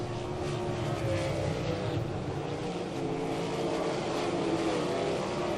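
360 sprint cars racing at Ohsweken Speedway, a steady loud engine drone with a harmonic whine from the pack, continuous and unbroken.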